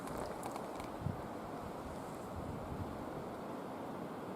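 Steady roaring wind in the taiga at night during autumn, a constant broadband rush and low rumble, gusting slightly, no voices, like a stormy night outdoors.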